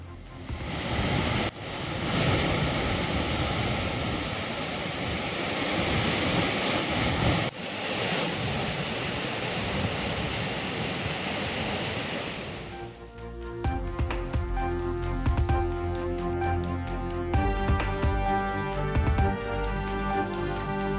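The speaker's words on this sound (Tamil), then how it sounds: "தொடர் கனமழையால் சோலையாறு பிர்லா நீர்வீழ்ச்சியில் இருந்து கரை புரண்டோடும் வெள்ளம்." Floodwater roars over the Birla waterfall at Solaiyar near Valparai after heavy rain, a dense continuous rushing torrent for about thirteen seconds before music takes over.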